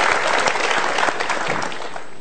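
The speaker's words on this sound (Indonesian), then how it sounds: "Kita berikan tepuk tangan untuk 2 orang ini." A studio audience at a televised motivational talk show bursts into steady, dense applause as two people are invited onto the stage, the clapping continuous and fairly loud throughout.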